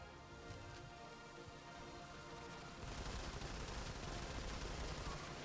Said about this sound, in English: The shoulder turrets are so annoying.